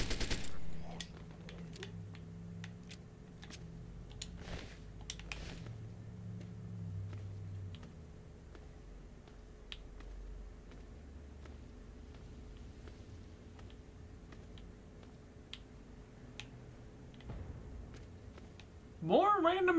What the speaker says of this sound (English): More random explosions.